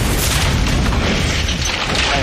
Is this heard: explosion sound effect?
yes